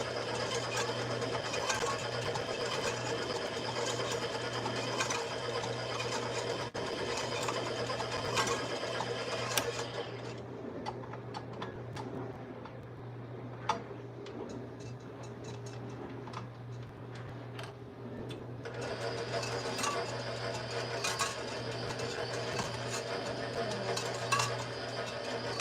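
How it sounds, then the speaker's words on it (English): An electric mixer whisks egg whites for macarons with a steady whirring motor hum, softening for several seconds midway before returning to full speed, alongside faint clinks of the bowl. "I'm going to start my mixer and let that get frothy."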